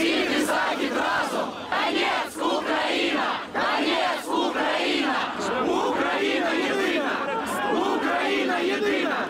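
Crowd at a pro-Ukraine unity rally in Donetsk shouting slogans in rhythmic unison, a loud, dense mass of voices that swells and dips in repeated chant bursts for the full length.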